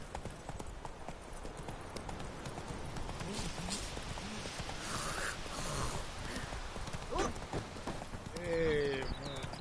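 Roach the horse in The Witcher 3 clip-clops along at a steady walking pace, hoofbeats continuous and fairly close, with brief game voices and ambient sound around them.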